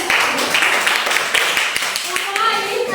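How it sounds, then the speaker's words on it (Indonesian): A class of children applauding a group, brisk irregular hand claps close by, mixed with chatter and young voices talking over them. "tepuk tangan untuk kelompok"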